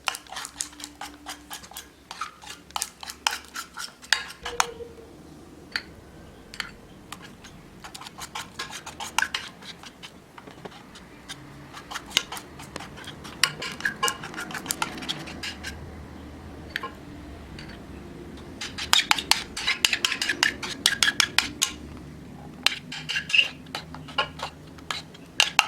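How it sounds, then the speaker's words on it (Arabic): Homemade slime mixture gets stirred in a bowl, giving close scraping and rubbing strokes with many quick clicky taps from the utensil, uneven in rhythm and busier near the end. "نقلب كويس."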